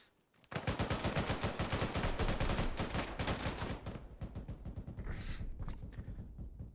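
Sustained rapid gunfire in a video game about fighting the Chinese army, loud bursts of dense repeated shots running nearly the whole time after a brief quiet start, easing slightly near the end.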